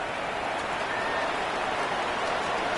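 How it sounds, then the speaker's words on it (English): Steady rain falls in the Madden 26 football video game, a constant even wash of rain noise at moderate level with no talk over it. "The rain set to continue as we are underway in the second half."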